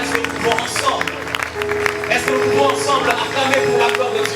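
A church congregation at a night worship service cheers and applauds for Jesus, with dense, continuous clapping and shouting that swells midway and stays loud throughout, voices mixed into the crowd noise.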